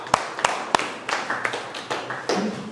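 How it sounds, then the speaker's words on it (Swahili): Students give a few sharp, scattered claps, loud and close at first, then a ragged run of lighter claps and taps. The claps come in an uneven rhythm with no voices over them. "tupige makofi"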